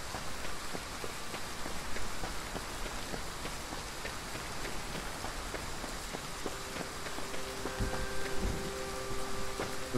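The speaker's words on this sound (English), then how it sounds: "The rain does sound nice." Rain in the open-world survival game The Front pours down as a dense, even hiss of drops, loud and steady for the whole stretch, with faint footstep-like thuds and a brief tonal hum near the end.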